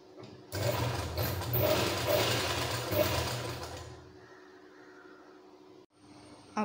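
A sewing machine stitches a nightie in a short loud burst of rapid mechanical whirring, then slows and fades to a quieter hum before a brief stop and restart.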